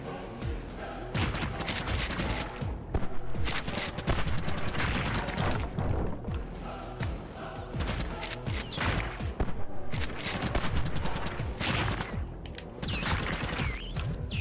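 Rapid video game gunfire from an indie shooter, dense continuous bursts of shots and mechanical reload clicks throughout, loud and close.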